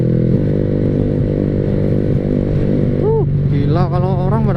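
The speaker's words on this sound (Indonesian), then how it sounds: "Sebelum di review sama Tian, udah gua review dulu suara knalpotnya, anjir." A Yamaha R15 V3 motorcycle fitted with an SC Project exhaust runs loud and close, its steady raspy engine tone rising toward the end as a voice speaks over it.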